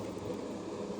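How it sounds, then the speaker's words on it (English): A spray booth exhaust fan runs steadily in a hobby paint workspace, a constant broadband whoosh with a low hum, close and unbroken throughout. "I do apologize for the noise. It's my spray booth"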